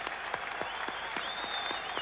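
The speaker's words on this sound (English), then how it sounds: "Even some of the hard-bitten newspaper men around me here are standing and applauding." Boxing arena crowd at the Mike Tyson vs Larry Holmes fight applauding Muhammad Ali, a brief stretch of steady massed clapping with a few sharper individual claps standing out.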